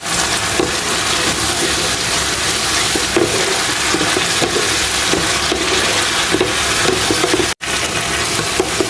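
A spice paste for fish frying in a wok, giving a steady close sizzle and hiss with small stirring scrapes throughout and one brief drop-out near the end.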